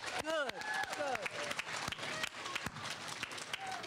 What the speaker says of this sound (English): Let me hear a huge applause.